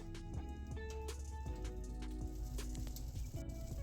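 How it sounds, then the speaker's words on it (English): Sweet potato casserole just out of the oven, sizzling and crackling with faint irregular pops and spits over a quiet background, close by. "You hear that sizzle?"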